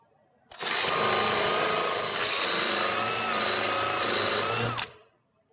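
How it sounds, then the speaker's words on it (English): A power drill with a Forstner bit whirs steadily for about four seconds, countersinking into a wooden door, then stops abruptly. "we'll use our Forstner bit to countersink about 7/16 to a ½ inch"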